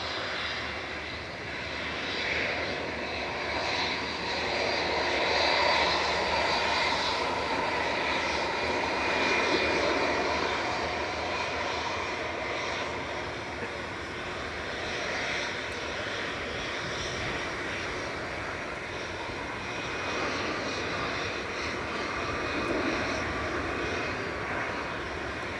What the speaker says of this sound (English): Ryanair touching down from Budapest in the background, I think